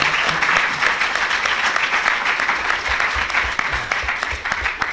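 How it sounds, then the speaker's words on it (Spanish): Audience in a lecture room applauds the speaker at the end of an academic talk, a steady, dense round of clapping with distinct individual claps audible throughout, lasting the whole five seconds without speech. "me merezco un aplauso doble por haber sido cortísimo"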